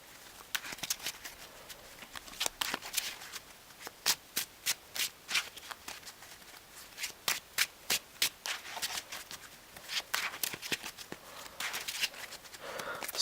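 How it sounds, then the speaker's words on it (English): A deck of trading cards is shuffled by hand, close up, in a long run of crisp riffling bursts and soft rubbing between them, with no talking. "the deck is shuffled"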